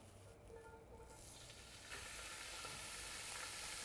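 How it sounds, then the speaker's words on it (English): Ground meat for a Bolognese sizzles in hot oil in a pan, a steady broadband crackle that swells louder about halfway through as more meat goes in, with no talk over it. "we cook the meat first to make it nice, dry the meat. Okay, now we put the meat inside."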